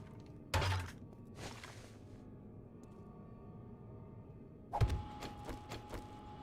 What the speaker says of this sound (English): Let's reload.